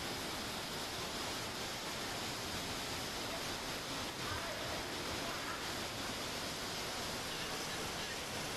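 Floodwater from heavy rain rushes steadily into the Someshwara temple at Sogal, Saundatti, a dense, continuous roar of flowing water without pause.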